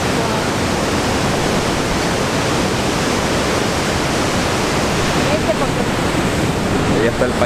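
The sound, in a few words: Pailón del Diablo waterfall in Ecuador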